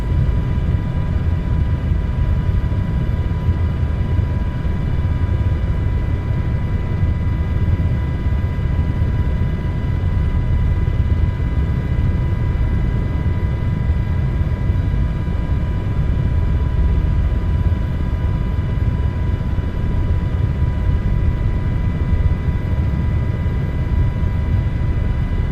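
MH60 helicopter in the Blackbird Simulations flight game, cruising fast at around 120 knots, gives a loud, steady rotor and turbine drone that holds unbroken for the whole stretch with no voices.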